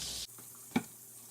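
Diced mirepoix of onions and carrots hits dairy-free margarine in a hot skillet: a bright, loud sizzling hiss that drops off quickly, then a quieter simmer with one sharp clack of a utensil.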